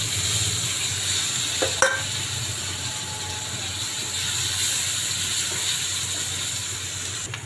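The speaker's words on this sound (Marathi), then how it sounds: "छान लाल होईपर्यंत कांदा थोडा परतून घ्यायचा।" Onion frying in a pan for a potato and green chilli dish, a steady close sizzle and hiss with a couple of brief stirring scrapes, no voices.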